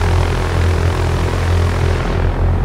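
Aircraft engine drone in the X-Plane 11 flight simulator with the cabin doors open, a loud, steady low hum with a constant propeller tone, unbroken and alone.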